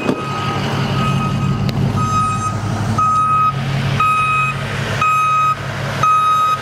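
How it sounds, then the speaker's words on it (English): A Case SR240 skid loader's backup alarm beeps in a regular rhythm, about one beep per second, loud and close over the low rumble of the machine's engine during snow plowing. "That beeper's annoying."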